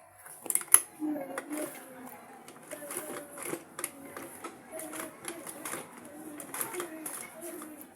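A sewing machine stitches a bag in quick, light, irregular runs of clicking and tapping, faint and close, with some handling noise between runs.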